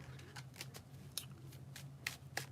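Tarot cards being bridge shuffled, giving a series of crisp riffling flicks and taps at an uneven pace, close and fairly quiet over a low steady hum, with no talking.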